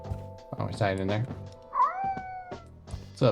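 A cat meows in a spooky warehouse setting of a horror video game, a rising, drawn-out call near the middle of the clip with a shorter cry at the end, heard between and under a person talking.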